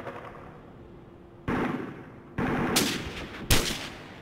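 Call of Duty 4 Modern Warfare gunfire breaks in as three loud sharp bursts, short rapid volleys following a quiet stretch of game ambience, with no talking.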